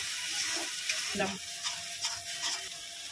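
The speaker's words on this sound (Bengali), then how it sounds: "এবার আমি এটা ভালো করে কষিয়ে নেব" A paste of pointed gourd peel with turmeric and salt is sautéed in a pan, giving a soft steady sizzle with a few light stirring scrapes, and a voice talks quietly over it.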